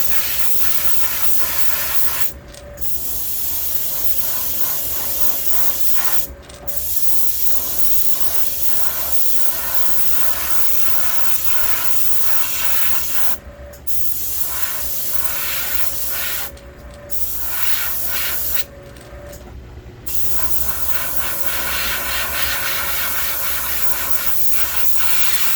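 Close hissing bursts of spray as a straight yellow base coat goes onto a vintage Storm Wiggle Wart fishing lure, the steady spray broken by several short gaps between passes.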